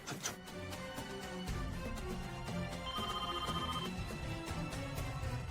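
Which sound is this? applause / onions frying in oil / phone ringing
phone ringing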